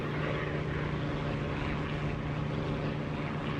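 A propeller aircraft engine in the DCS flight simulator game drones with a constant, loud, steady hum and a strong low tone, heard from inside the cockpit with the canopy closed, filling the whole clip with no talk.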